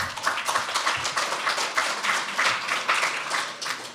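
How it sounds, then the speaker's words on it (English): Audience at a panel debate clapping in a steady, dense patter of many hands, moderately near and sustained throughout, with no voices over it. "You don't need to clap them every time."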